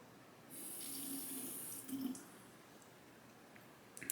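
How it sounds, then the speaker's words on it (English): Water trickles onto a Shapton whetstone during knife honing: a faint steady pour for about a second, then a brief splashy burst and a few small drips, quiet and close, with no talking. "I'm gonna add a little bit more water here."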